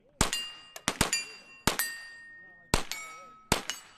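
Gunshots strike steel targets at an outdoor shooting range, each one a sharp ringing clang with a lingering metallic tone, about seven or eight hits spaced irregularly and heard close and clear.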